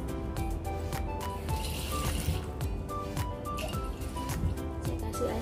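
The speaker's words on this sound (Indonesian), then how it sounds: "saya kasih air sedikit ya" A little water poured into a mixed fruit salad, a wet trickling splash with squishy stirring and clatter, close and steady throughout.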